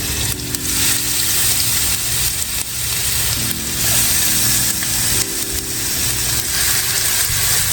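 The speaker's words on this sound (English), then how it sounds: "We're gonna sear this meat on all sides." Short ribs searing in hot avocado oil in a pan, a loud continuous sizzle and crackle with occasional scraping and clinking from a utensil against the pan.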